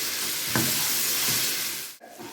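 Ginger garlic paste fries in oil in a pan, a steady close sizzle that runs almost the whole time, with a couple of faint stirring knocks before it suddenly cuts out near the end.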